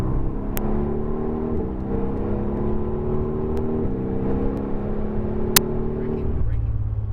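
Mercedes AMG GTR accelerating on a race track, a loud, steady engine drone climbing through rising gear pitches with a brief shift near the end, heard from inside the car.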